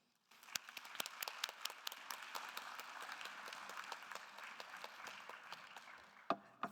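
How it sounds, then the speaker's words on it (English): Audience applause at a poetry reading swells quickly into sustained, dense clapping from a moderate crowd, holding steady for several seconds before tapering off with a few scattered claps. "Please give a warm round of applause for Marilyn Chin."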